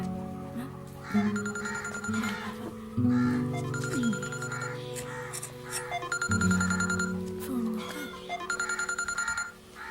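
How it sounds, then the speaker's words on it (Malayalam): A telephone rings in a scene from the Malayalam film Thimiram, sounding in four or five repeated electronic bursts, loud and close, with a low hum underneath. "മോളെ ഫോൺ അടിക്കുന്നത്, നീ ഒന്ന് പോയി എടുത്തേ"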